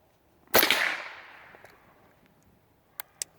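A .22 LR rifle fires one Norma Eco Speed round at close range, a sharp crack that fades over about a second, followed later by two faint metallic clicks.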